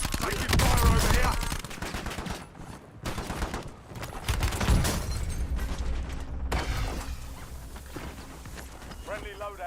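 Dense video game gunfire, automatic bursts and rapid shots layered close together, loud in the first half and easing off toward the end, with voices speaking over the combat.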